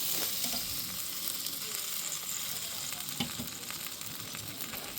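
Steaks sizzling on a grill, a steady dense hiss of fat crackling with occasional small pops, close and even, no talking.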